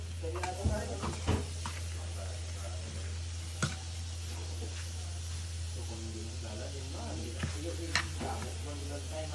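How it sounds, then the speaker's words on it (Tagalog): White onion is stirred and fried in a pan, giving a steady close sizzle with occasional clicks and knocks of the utensil against the pan, under a constant low hum. "So mimix lang natin hanggang maging golden brown at hintay-hintay lang natin hanggang magluto"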